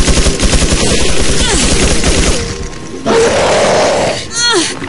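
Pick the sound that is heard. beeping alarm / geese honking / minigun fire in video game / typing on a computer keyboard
minigun fire in video game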